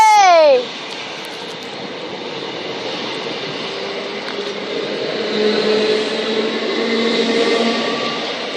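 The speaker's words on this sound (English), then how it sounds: "Great two-tone from the driver" A Southern train bound for London Bridge passes on the Brighton Main Line at Honour Oak Park. A brief two-tone horn blast at the start gives way to a steady, loud rumble and rattle of carriages.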